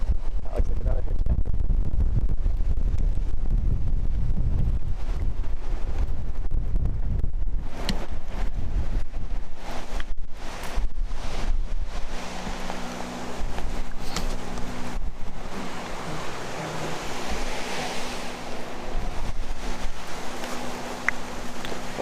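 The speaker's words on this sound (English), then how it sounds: "the wind's coming from this way, so it makes sense that we're a bit more exposed" Wind gusts across an exposed hilltop in Northern Ireland, a steady loud rumble buffeting the microphone through the opening seconds before easing into a softer, breezy hiss with a low mechanical hum underneath.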